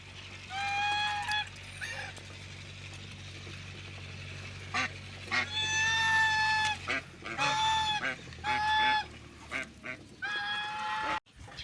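Farm ducks quacking and calling loudly and close by, in repeated bursts of several honking calls separated by short pauses.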